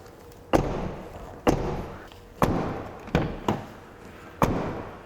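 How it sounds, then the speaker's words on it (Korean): Car door of a new Hyundai Tucson shut repeatedly, five solid thuds spaced about a second apart, close and clear with nothing in between. "창문 문을 닫고 다시 한번 문 닫는 소리 보여달라 그러시네"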